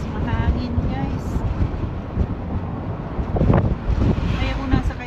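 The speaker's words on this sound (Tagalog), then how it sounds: "Oops, mahangin guys." Strong wind at Eastbourne Beach, New Zealand, buffets and rumbles across the microphone in steady gusts, with a faint low drone beneath.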